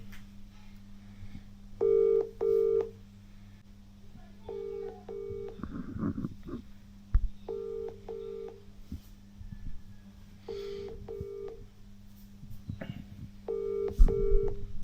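A phone call to an Ola electric scooter showroom rings out unanswered, the ringback tone repeating in evenly spaced double bursts over a low steady hum, with brief background noises between rings.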